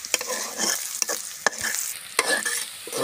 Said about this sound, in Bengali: তো প্রথমে পেঁয়াজ মরিচ তেলের সাথে ভালো করে এভাবে ভেজে নিব